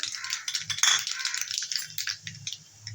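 Mustard seeds splutter and pop in a little hot white cooking oil in a pan, a dense, close crackle of rapid rattling bursts that continues throughout.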